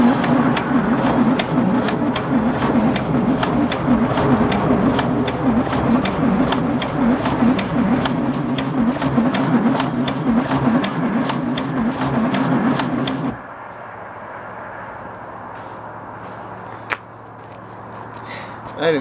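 A 1966 VW Beetle engine is cranked to start, giving a loud, rhythmic churning turnover with regular beats. It grinds steadily for about thirteen seconds, then cuts off into quieter background hum with a single sharp click.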